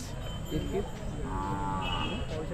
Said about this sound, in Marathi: शेतकऱ्याची बैलजोडी आहे खतरनाकच